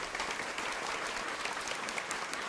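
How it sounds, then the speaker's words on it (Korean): An audience at a Korean history lecture show claps, a full, even wash of applause sustained throughout at moderate volume, with no voices over it. "이분에게 큰 박수"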